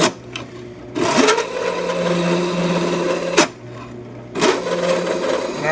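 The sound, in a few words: chamfering holes in metal security strike plates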